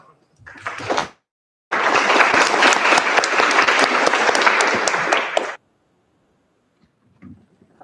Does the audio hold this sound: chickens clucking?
no